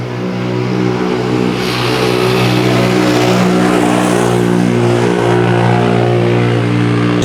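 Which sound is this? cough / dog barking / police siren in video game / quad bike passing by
quad bike passing by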